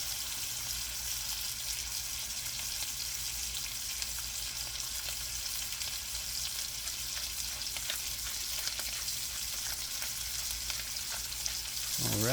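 Steak seared in a frying pan for steak Diane, giving a constant close crackling sizzle that runs unbroken throughout, with faint clinks near the end and no speech.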